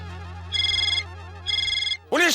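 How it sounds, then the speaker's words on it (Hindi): A mobile phone ringtone rings in a police station, two bursts of electronic tones over a steady low hum, after which someone speaks briefly. "पांडे जी आपका ही फोन बज रहा है।"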